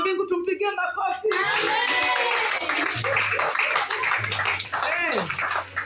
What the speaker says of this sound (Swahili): Ndugu wa mbingu tumpigie makofi.